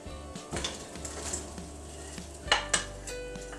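Onion sizzling in hot sunflower oil in a large heavy-bottomed pan, with a few loud clanks of a utensil against the pan near the end.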